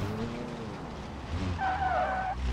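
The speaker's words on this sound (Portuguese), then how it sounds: "o turbo enche e ele despeja a potência" A turbocharged Nissan S14 in BeamNG.drive revs its engine while the tyres squeal and skid loudly, and a high screech rises over the engine drone near the end.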